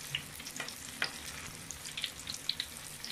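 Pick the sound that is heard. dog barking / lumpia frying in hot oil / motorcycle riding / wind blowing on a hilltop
lumpia frying in hot oil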